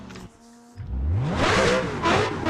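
BMW E36 engine in Assetto Corsa revving hard with throttle blips, a rising mid-pitched roar that surges and dips repeatedly, loud and close with no talk.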